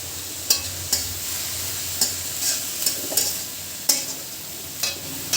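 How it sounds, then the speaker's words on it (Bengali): Leafy greens frying in a pan while being stirred, a soft steady sizzle punctuated by about nine sharp scraping clinks of the utensil against the pan at irregular intervals, close and without talk. "এবার একটু নাড়াচাড়া করে দেবো।"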